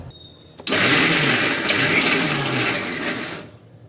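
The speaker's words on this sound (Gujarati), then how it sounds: "પાછું બે જ વખત આપણે મિક્સચર ફેરવીશું વધારે નથી ફેરવવાનું" Mixer grinder whirring in one short pulse of about three seconds, a loud close motor whine that starts abruptly and cuts off, with no talking.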